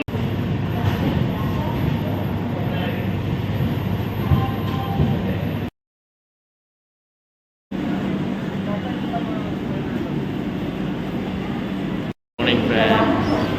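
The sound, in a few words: 12245 Duronto Express train running, Kolkata to Bangalore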